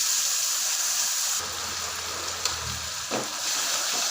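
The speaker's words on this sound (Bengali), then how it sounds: "নুন দিয়ে দেবো হলুদ দিয়ে দেবো এটাকে ভালো করে একটু মশলাটাকে কষিয়ে নেবো" Spice masala with salt and turmeric fries in a pan for paneer kosha, a soft steady sizzle joined midway by a low hum and a couple of brief stirring scrapes.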